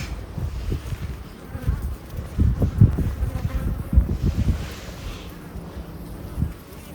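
Honeybees buzz steadily during a hive split, a dense close drone with louder bursts, and a voice chatters faintly now and then.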